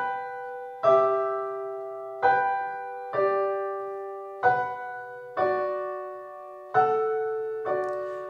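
Piano chords played with the sustain pedal, struck every second or so, each ringing on and blending into the next with no gaps, sustained and resonant, played alone.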